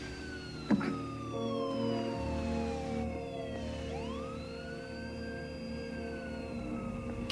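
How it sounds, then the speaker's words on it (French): A police siren wails at a distance, its pitch sweeping down and back up in slow cycles, continuous throughout with no one speaking. "J'ai entendu une sirène de police"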